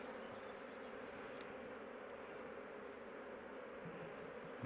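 Honeybees buzzing in an open beehive as a beekeeper works through it, a dense continuous hum from many bees, steady and close, with no voices.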